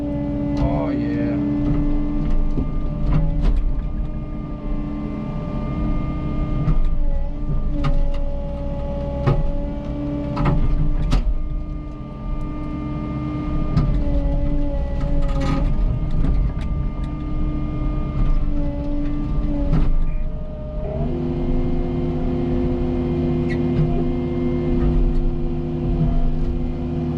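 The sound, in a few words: Cat 309 excavator breaking up a concrete pad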